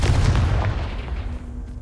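A Confringo blasting curse goes off in Hogwarts Legacy, a heavy gunshot-like blast at the start that fades into a dull rumble with a faint low hum.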